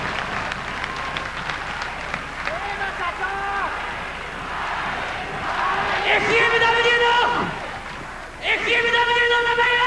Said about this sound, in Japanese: いやー、すごい歓声だ